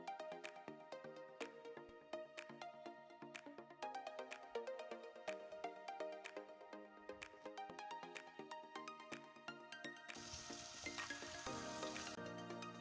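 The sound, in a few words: chopped onions frying in oil for hilsa fish bhuna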